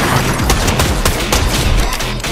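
Slow, heavy gunshots from a legendary-rarity video game gun with a slow fire rate, several loud booming reports spaced unevenly across a dense, busy game mix.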